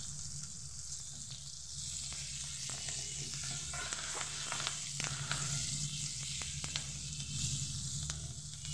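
Onions and slit green chillies frying in a pan for a bhindi chilli dish, a steady close sizzle with light crackles and the occasional stir, no talking.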